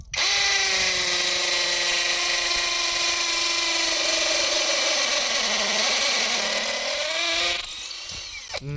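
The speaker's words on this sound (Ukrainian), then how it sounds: "Як тільки кажу, що це під шурупокрут, вони мені кажуть, що жоден шурупокрут не потягне ось такого бура." A GRAND cordless drill-driver spins an earth auger bit with a loud, sustained motor whine whose pitch sags slightly under load, then cuts off near the end; no voices.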